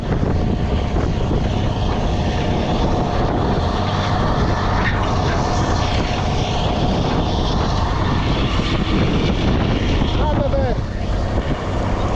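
A Case Magnum tractor pulling a plough in a field drones continuously and evenly, with rushing wind noise over the microphone and no pauses.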